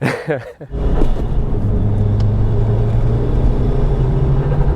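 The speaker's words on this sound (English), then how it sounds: "Let the torque flow out, then ease back off the throttle, push it on again, keep the torque flowing." Mitsubishi Lancer Evo V GSR engine under throttle on a Japanese mountain pass, a steady loud in-cabin drone and rumble holding level after a brief dip at the start, with no talk over it.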